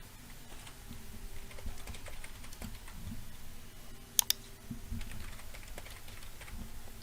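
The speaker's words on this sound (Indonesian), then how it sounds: "kita ketikkan" Quiet typing on a computer keyboard, soft irregular key clicks with a couple of sharper taps midway, heard close over a faint background hum.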